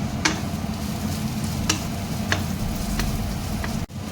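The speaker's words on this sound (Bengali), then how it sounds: "এই পেঁয়াজটাকে একটু ভাজা ভাজা করতে হবে।" Chopped onions fry with spices in a pan, giving a steady close sizzle broken by a few sharp scraping stirs, with no talking.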